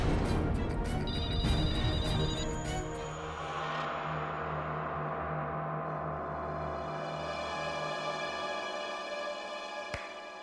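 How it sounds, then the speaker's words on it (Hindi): A telephone rings loudly with a rapid electronic trill for a couple of seconds, then the ringing fades into a lingering tonal hum, in a radio station setting, with no talk over it. "ये तो उस आत्मा का ही फोन लगता है।"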